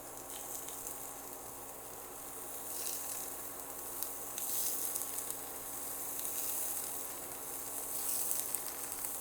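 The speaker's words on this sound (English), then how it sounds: "I'm going to go in and put in all of my cubes of cheese." Steady, crackling sizzle of cheese cubes frying in a hot pan, close and continuous, with small pops rising now and then; no voices.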